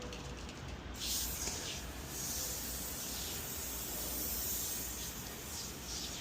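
Black Magic tire wet foam is sprayed onto car tires, a steady pressurised hiss from an aerosol can that starts after a brief quiet moment and runs nearly continuously at moderate level.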